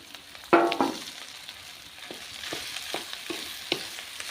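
Boiled potato stuffing is mixed in a frying pan: a sharp clatter of the spoon against the pan opens, then quieter intermittent scraping strokes sound over a low, steady sizzle.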